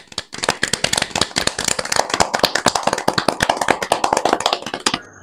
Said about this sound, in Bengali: সবাই জোরে হাততালি দাও।